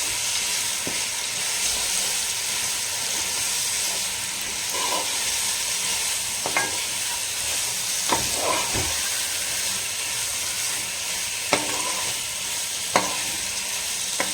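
Chicken roasts in a hot pan with a steady, close sizzle and hiss throughout, broken now and then by faint utensil clinks and scrapes.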